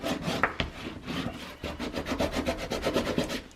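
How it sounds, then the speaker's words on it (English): Layered paper burnished by rubbing, a dry scraping rasp in quick back-and-forth strokes, close and moderately loud, speeding into a steady rhythmic series toward the end. "I'm going to go ahead and burnish it one more time."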